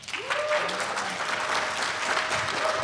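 A comedy convention panel audience for Reno 911! breaks into loud, sustained applause that rises quickly and stays thick and even throughout, with a faint voice tone riding over it.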